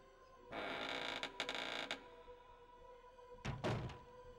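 Doors creaking open with a thunk in the survival horror game Resident Evil: Code Veronica, a loud mechanical creak and clunk followed by a second heavy burst, with no talking.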